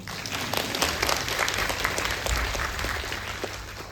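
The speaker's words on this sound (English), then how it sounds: "Now, please, you can clap." An audience at a lecture claps together in sustained, steady applause, many hands patting at once, filling the room evenly.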